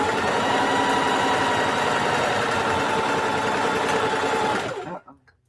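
A sewing machine stitches a curved seam on a fabric handbag, a steady rapid mechanical whir running close and continuous for several seconds before stopping abruptly.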